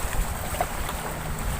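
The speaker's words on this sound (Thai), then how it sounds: "ลมหน่อย" Wind gusting steadily into the microphone at a reservoir shore during bank fishing, a continuous broadband rush and buffet with no talk, filling the short stretch evenly.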